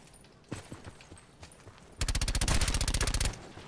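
A few scattered distant shots crack in Call of Duty Black Ops 4 Blackout, then a loud, fast burst of automatic fire rattles out in a rapid even rhythm for over a second before stopping.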